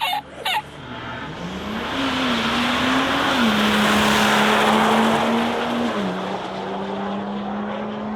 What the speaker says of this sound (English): Turbo is loving life.